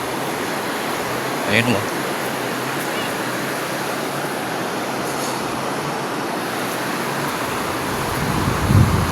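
The swollen river rushes past after Typhoon Uwan as floodwater. A loud, constant broadband roar fills the whole clip. A person speaks briefly near the start and again near the end.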